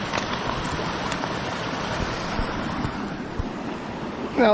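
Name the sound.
stream flowing by old water wheel foundation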